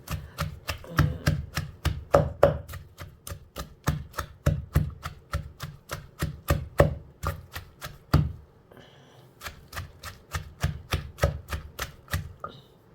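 Rhythmic pounding of hot roasted chili in a mortar, a steady series of sharp thuds at a brisk, even pace, close and loud, with a brief pause midway before the strikes resume.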